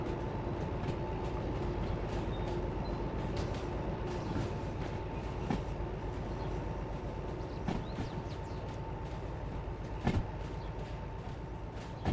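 A freight train in the Derail Valley simulator game rolling steadily over track and past a switch, with a constant low rumble and occasional sharp clacks and clunks from the wheels, heard up close with no talking.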